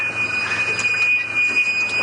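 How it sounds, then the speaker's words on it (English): A loud, sustained high-pitched brake squeal from a safari vehicle on a sunrise game drive, piercing and continuous over a low vehicle rumble, very close. "as we attempt to not deafen ourselves with the brakes"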